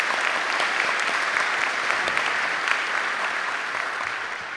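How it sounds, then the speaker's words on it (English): An audience applauds at a high school academic awards ceremony, dense continuous clapping from many hands that fills the room at an even, loud level throughout, with no talk over it. "please join me in giving her a round of applause"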